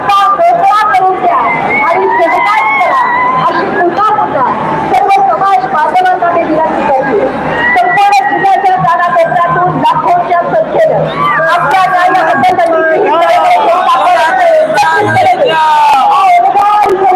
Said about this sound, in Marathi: प्रचंड गर्दी आणि संघर्ष उद्योग पाटील यांच्यासोबतची प्रचंड गर्दी आपल्याला पाहायला मिळते आहे